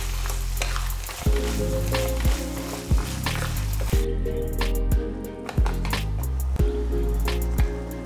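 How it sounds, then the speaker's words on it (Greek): Mussel meat sizzles loudly in a hot pan while being stirred, giving a continuous close frying crackle broken by repeated scraping and squishing strokes of the spoon roughly every second, with no talk. "Προσθέτουμε και τη μυδόψυχα. Ανακατεύουμε καλά."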